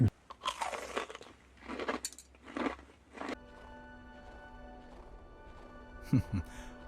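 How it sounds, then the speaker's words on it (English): Crunchy peach-flavored gelatin candy with a hard outer shell and a soft interior is chewed up close. Several loud, brittle crunching bursts come over the first few seconds, then give way to a quiet, steady hum. "It's that crunchy outer layer and soft gelatin interior."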